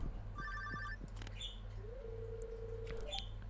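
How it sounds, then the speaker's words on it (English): A late-night telephone rings inside a Stardew Valley farmhouse as a short chiming electronic trill, set among soft ambient game sounds and small chirps on a quiet fall evening, with no talking. "Oh boy, we're getting a late night phone call."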